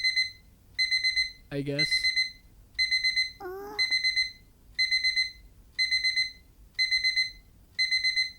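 A digital alarm clock in the video game YumeUtsutsu Re:Master rings in repeated bursts of shrill beeping, steady and evenly spaced over several seconds. A person speaks briefly over it twice.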